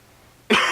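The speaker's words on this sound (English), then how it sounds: "Please excuse the cough in there." Near silence broken by a single sharp, close cough that rings out briefly.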